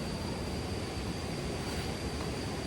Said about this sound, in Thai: ได้ยินเสียงน้ำตกไหม